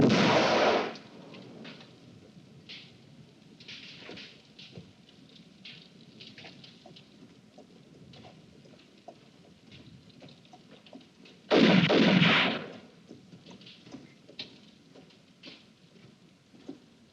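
Rifle volley from a firing squad in a Western film: one sharp, loud burst at the start and a second loud blast later, with quiet ambient noise between them.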